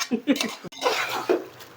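A few short coughs sound at close range while chicken biryani is being cooked, followed by voices talking nearby.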